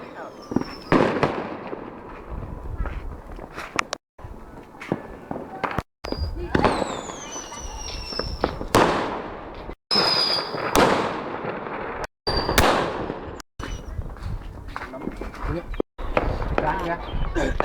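Tet New Year fireworks in Vietnam, a series of loud booming bursts with whistling rising trails and crackling tails, repeated over the whole stretch, with voices talking among the explosions.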